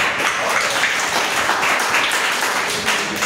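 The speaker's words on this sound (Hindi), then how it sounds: "क्लैप बजाओगे?" Students in a classroom clap together in a short burst of dense, loud applause that stays even throughout, with no speech over it.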